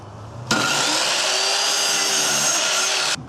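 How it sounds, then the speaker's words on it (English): A power saw cuts wood boards for building studio sound absorbers, starting abruptly, whining loudly and steadily for nearly three seconds, then stopping sharply, with no speech. "even though power tools can be scary, they are necessary to have your build go a little bit quicker"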